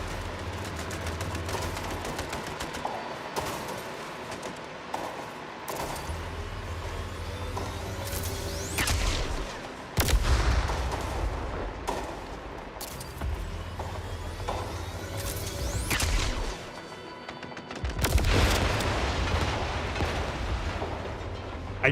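Gunfire and heavy booms in the video game MindsEye, a long stretch of dense, loud shooting and explosive blasts over a rumbling vehicle engine, with sudden bigger impacts scattered throughout.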